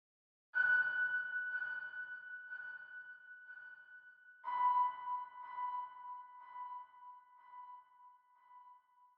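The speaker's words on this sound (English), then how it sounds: "Then adding the delay and the reverb." A piano melody drenched in echo and reverb, notes repeating and smearing into a long shimmering tail, with a lower note entering midway.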